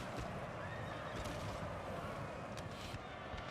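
Cavalry horses in Napoleon: Total War's Russian campaign whinny and neigh amid a dense, continuous battlefield roar of hooves and clatter, several loud calls overlapping throughout.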